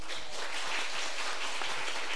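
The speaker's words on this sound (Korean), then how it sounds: "박수로 맞이하도록 하겠습니다" Steady, dense applause from a church congregation, a continuous wash of clapping at even loudness with no voices.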